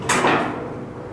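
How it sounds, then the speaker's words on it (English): A door being removed from a Wintersteiger Sigma b ski grinding machine gives a short metallic clack followed by a second knock and a brief ringing decay, close and fairly quiet. "Remove the door."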